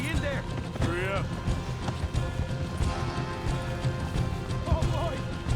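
Horses in the Western video game Red Dead Redemption 2 clatter at a gallop with quick hoof clip-clops, while a couple of sharp rising whinnies cut through near the start and end over a busy game soundscape.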